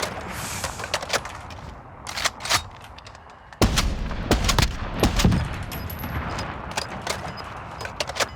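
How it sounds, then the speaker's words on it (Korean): Loud, sharp gunshots from an M82 sniper rifle in Call of Duty: Warzone crack out one after another in an uneven series, with a heavy boom in the middle and fading echoes between. "엠파리가 유독 총소리가 큰 것도 있기는 한데"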